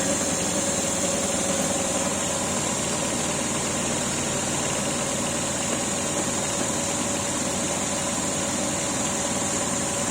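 A test-bench alternator runs steadily during a positive-sequence impedance test, giving a constant loud mechanical hum and drone with a faint high whine, unbroken and without talk.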